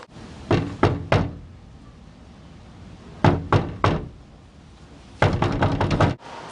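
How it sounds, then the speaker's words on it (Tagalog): Knuckles rap on a door in three separate bursts of three or four sharp knocks each, loud and close, with quiet pauses between and the last burst longer and faster. "may kumakatok"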